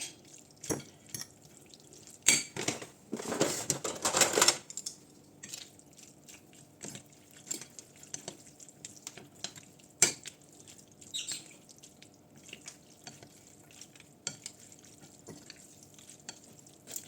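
Instant spicy ramen being stirred and mixed, soft wet clicks and drips from utensils against the noodles and bowl, with a brief louder rustling burst early on, otherwise quiet.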